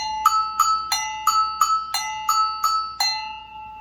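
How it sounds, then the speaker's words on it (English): An agogo bell struck nine times in a steady rhythm, each bright metallic ringing hit decaying quickly before the next. "This a go-go bell."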